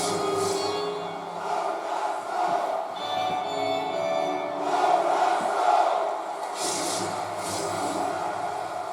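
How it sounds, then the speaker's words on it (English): An arena crowd in the NHL 25 hockey game between the Senators and Canucks roars steadily at the start of the first period, a continuous wash of cheering with no commentary. "you can feel the energy of this crowd at the start of the first period"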